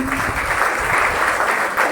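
Steady, dense clapping from a large crowd, loud and sustained throughout with no break.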